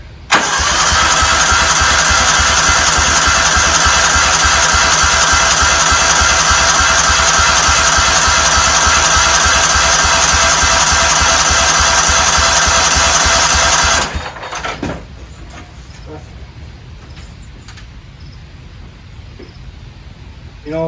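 A 1994 Cub Cadet HDS2135 lawn tractor, unrun for ten years, cranks and fires up with its engine roaring loud and steady for about fourteen seconds before cutting out, leaving quieter background sounds.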